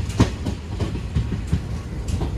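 A passenger train runs on rails at night with a fault, its wheels giving a steady rhythmic clickety-clack over a continuous low rumble heard from inside the carriage.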